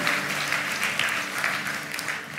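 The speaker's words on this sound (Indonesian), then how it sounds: "Berikan tepuk tangan buat Tuhan bahwa ini adalah Injil." A church congregation in Surabaya bursts into sustained applause, a dense, even wash of clapping that continues steadily with no talking over it.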